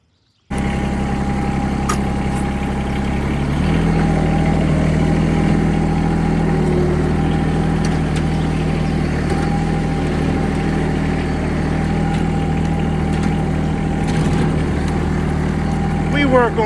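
A lawn mower engine runs steadily and close by while the machine is loaded up for grass cutting, a continuous droning hum with a steady tone that picks up slightly a few seconds in and holds to the end.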